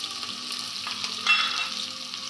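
Onions and cumin seeds frying in hot oil in a pan make a steady close sizzle, a continuous hiss that swells briefly midway as the onions hit the oil.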